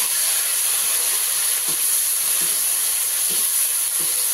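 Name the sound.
tomatoes sizzling as they are added to the pan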